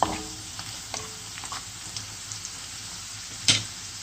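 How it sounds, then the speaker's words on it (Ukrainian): Onion and carrot sauté in oil with a continuous close sizzle, punctuated by light stirring scrapes and one louder clatter near the end; no one speaks. "Для зажарки так само пасируємо на олії цибульку, моркву."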